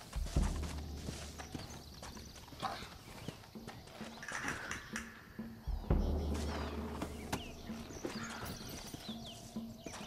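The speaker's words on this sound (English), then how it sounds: "Looks like Carlos left us some horses." Horses' hooves clip-clop in the video game Red Dead Redemption, a close, uneven run of hoof hits mixed with in-game ambience and occasional low thumps.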